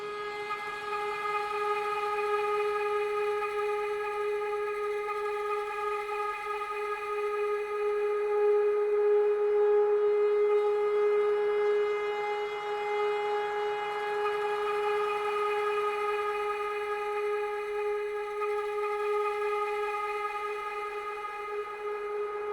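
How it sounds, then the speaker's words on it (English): A sustained synthetic drone with layered steady tones, slowly shifting in timbre and brightness throughout, continuous with no talking. "now we get some really cool ever-morphing atmospheres"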